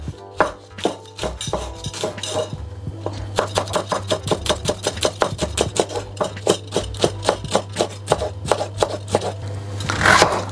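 Knife chopping green chillies into small pieces on a board: a quick, steady run of close, crisp taps, several dozen in a row, with a low hum underneath.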